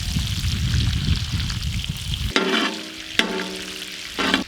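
Unsalted butter sizzling in a pan for Mumbai street-style pav bhaji, a dense frying crackle at first, then quieter with a few sharp clanks of a spoon or pan.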